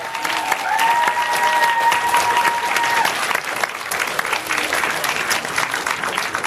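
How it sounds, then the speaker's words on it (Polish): Steady, loud audience applause fills a gala hall at the Filmowe Ferie 2014 event, many hands clapping continuously while a sustained musical tone rings out over the first half. "Wielkie brawa!"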